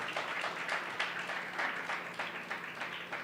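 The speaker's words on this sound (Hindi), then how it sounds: "क्यों ना प्रभु के लिए ताली बजाए।" A congregation at a Hindi-language church service claps for the Lord, with steady, moderately quiet applause that swells in loose waves for a few seconds.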